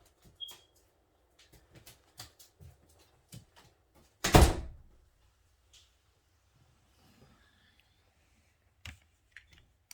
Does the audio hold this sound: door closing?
yes